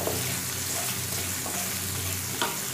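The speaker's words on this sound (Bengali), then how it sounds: "পেঁয়াজ টমেটোটা একটু নরম হওয়া পর্যন্ত আমাদের এটা ফ্রাই করে যেতে হবে" Onion and tomato frying in a pan for a dhaba-style egg masala curry, a steady close sizzle with occasional stirring scrapes, continuous and fairly loud with no talking.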